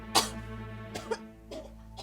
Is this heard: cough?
yes